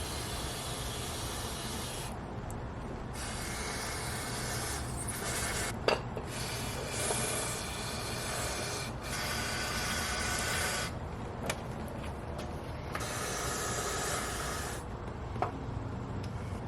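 Brake cleaner sprays in bursts into the valleys of an Audi RS4 engine, flushing an oil mixture through the ports; hissing jets start and stop repeatedly, with a few light metallic clinks between them.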